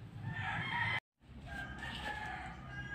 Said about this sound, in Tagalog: Yan ang mga birds